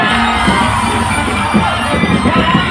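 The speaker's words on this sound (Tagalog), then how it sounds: "At sigawan!" A large rally crowd shouts, whoops and cheers for Philippine Vice President Sara Duterte in a dense, continuous roar, with yells and whoops rising above it.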